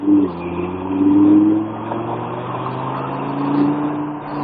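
A supercar engine pulls hard on the throttle with a steady, close, droning roar whose pitch climbs briefly during acceleration and then holds level through the rest of the run.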